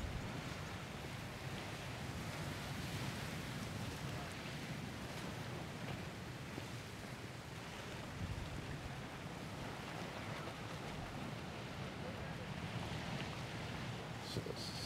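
Steady wind roars and surf washes continuously along the beach at Tamarijn Resort and Divi Beach, loud and close with no break and no voices.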